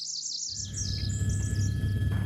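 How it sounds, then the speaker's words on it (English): Songbirds sing in Burns Bog, a wetland, with several high chirping, warbling calls overlapping at moderate distance over a steady low background rumble. "Songbirds are abundant in the bog"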